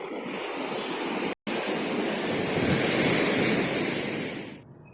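Ocean waves washing onto a beach near Pariaman, a broad continuous roar of surf with wind noise, loud and close, briefly cut out once, then fading at the end.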